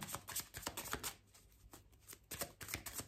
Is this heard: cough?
no